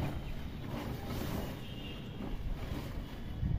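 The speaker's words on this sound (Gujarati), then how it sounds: "હાલો પવન છે" Wind sweeps across a house rooftop in summer, a fairly faint, continuous rushing with soft gusts and some buffeting against the microphone.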